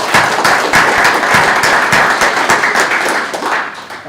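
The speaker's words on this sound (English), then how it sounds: "Y'all can clap. It's all right." A school audience at a county council meeting applauds a high school girls' team, a steady burst of clapping from many hands that holds for several seconds before thinning slightly at the end.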